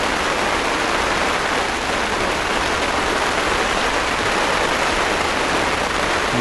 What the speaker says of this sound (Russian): Смотрите, дождь какой.